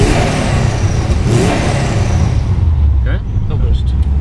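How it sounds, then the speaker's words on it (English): Subaru WRX engine with the dump valve deleted and a blanking plate fitted, revving up from idle, loud and close, with a steady broadband roar and a turbo whoosh building near the end. "I'm going to go idle, and then I'll give it a little rev."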